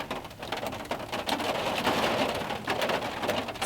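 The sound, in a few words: rain falling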